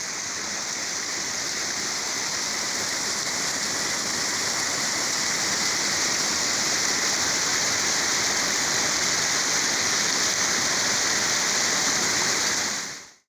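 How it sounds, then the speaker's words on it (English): The Afon Cynin stream near Trelech, Wales rushes steadily under a bridge, a dense, continuous loud wash of flowing water with no other sounds. "So here we have the stream that we saw earlier running down from Trelech"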